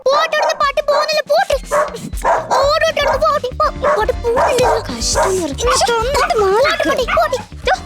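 Excited yips, whines and barks from a dog, close and loud, mixed with whimpering and overlapping voices throughout.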